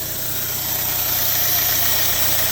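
A Chevrolet Cruze engine idles with a faulty PCV valve cover, giving a steady close-up mechanical hum with a faint uneven ticking running through it.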